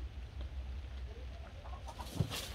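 A startled chicken lets out a brief cluck near the end, outdoors, over a low rumbling background.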